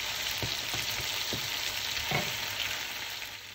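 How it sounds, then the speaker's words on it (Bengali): Marinated chicken pieces frying in oil for butter chicken give a steady, close sizzle. A few soft stirring knocks break through it. "এখন আস্তে আস্তে ভেজে নিব"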